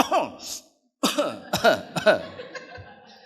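A voice imitates coughing, a few short rough coughs and throat-clearing sounds in quick bursts with a brief pause between.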